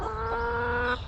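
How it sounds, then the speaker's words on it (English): Chickens clucking close by, a dense sustained burst of loud fowl vocalizing with no talk over it. "Chickens are too loud."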